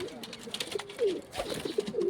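Pigeons coo softly in a village pigeon coop, a few short low throaty calls repeating at close range with background rustle.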